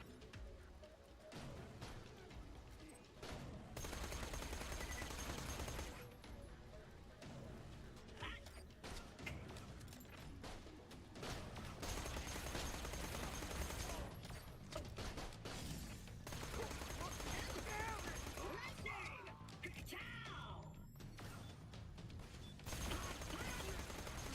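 Dense, continuous gunfire from the Borderlands: The Pre-Sequel video game on Helios, loud bursts and clatter running almost nonstop, with mechanical clanks and crashes mixed in.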